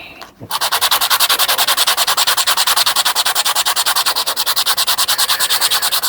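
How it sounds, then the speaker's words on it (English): A 1953 two-shilling coin ring being sanded by hand with sandpaper, a fast, even rhythm of close, loud rasping strokes after a brief pause at the start, continuing steadily with no talk. "So we're just going to sand this bit down, make sure there's no cracks in there."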